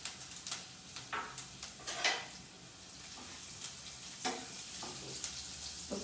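Chopped ginger and green chili frying in a pan as a home cook prepares a cauliflower dish, a soft, steady sizzle broken by scattered clinks and scrapes of a utensil against the pan.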